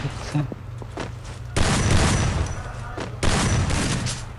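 Bursts of automatic gunfire from a shooting video game, two long dense volleys cutting in loudly after a few quieter shots, with faint talk in the background.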